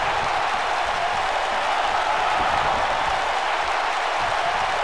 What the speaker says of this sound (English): Lupin has got this crowd fired up.